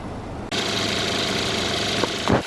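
A 4-cylinder 2-liter Lincoln MKZ engine with a 6-speed automatic runs steadily at idle, a loud continuous hum that starts abruptly and carries on with a brief knock or thump near the end.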